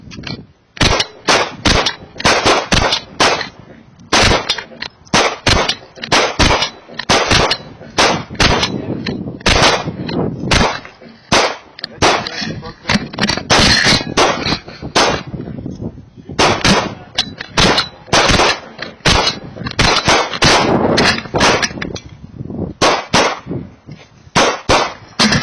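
Rapid gunshots fired at targets, dozens of loud sharp cracks in quick uneven bursts with metallic clangs from hits, close range and continuous throughout.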